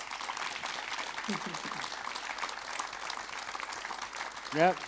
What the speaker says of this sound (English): a big round of applause for our beautiful panel